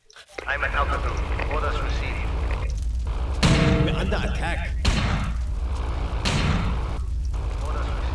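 Missile strikes and explosions in the real-time strategy game Empires: Dawn of the Modern World give heavy booming bursts over a dense battle din, with a player talking throughout.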